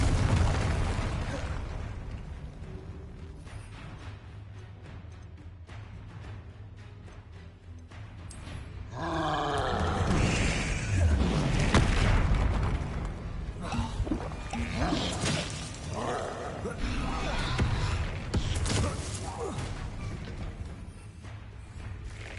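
Spell effects from Hogwarts Legacy, a Glacius freezing spell, Defendo and a fiery Confringo, burst and rumble as dense game explosions mid-sequence over continuous background game sound.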